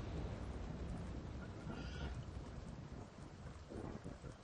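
Rain falls with a low rumble of thunder in The Sims Castaway Stories game, a steady dense wash of noise with deep rolling undertones. It is faint and continuous throughout.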